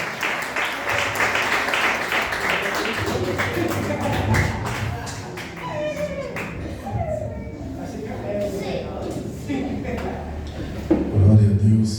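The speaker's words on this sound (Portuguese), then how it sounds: "Bate palma para Jesus, irmãos." A church congregation claps along during a worship service while a voice keeps speaking over it, the clapping steady and close with shuffling and tapping mixed in, fairly loud throughout.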